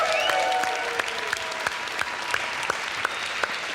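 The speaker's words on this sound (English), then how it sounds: "So one big applause for everybody here." Applause from an audience at a Garage48 hackathon award ceremony at Kultuurikatel, thick at first and then thinning into a handful of separate, sharp claps near the end.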